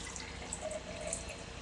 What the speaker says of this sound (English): So I'm going to pour the water into my jar, like so.